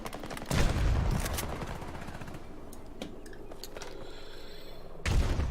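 Shots aimed at a player in Battlefield 2042, with heavy close blasts at the start and end and scattered sharper reports between them.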